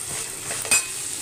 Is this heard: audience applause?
no